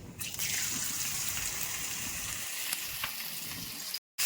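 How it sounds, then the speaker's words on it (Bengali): Soaked, drained moong dal fries in hot oil with a panch phoron tempering, giving a loud, steady, close sizzle that runs unbroken and then cuts off to brief silence at the very end. "মুগ ডালটাকে একটু ভাজা ভাজা করে নিতে হবে তেলের মধ্যেই"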